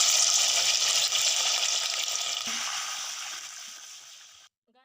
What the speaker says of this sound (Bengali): একটা লটিয়া মাছকে নিয়ে আমি এর মধ্যে ভালোভাবে ডুবিয়ে নিয়ে আর তেলের মধ্যে ছেড়ে দেবো